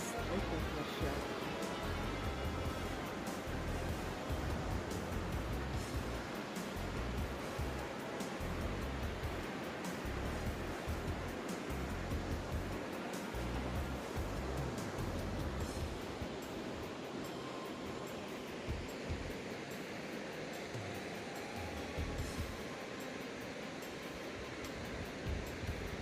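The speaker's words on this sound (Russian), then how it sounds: "И мы полюбуемся водопадами с этой площадки." Waterfalls near Sochi in spring, a steady broad rushing roar of falling water heard from a viewing platform, continuous and fairly distant.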